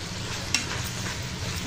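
Ginger garlic paste frying in a pan, a steady close sizzle with a single scraping stir of a spoon partway through, no voices.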